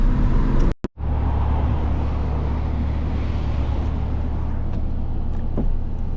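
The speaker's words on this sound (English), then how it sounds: "I'm gonna roll the window down here and let you hear some of the driving noise." Steady low road and wind roar from a 2016 BMW i8, a turbocharged inline three paired with two electric motors, heard from inside with the window down, broken by a brief dropout near the start.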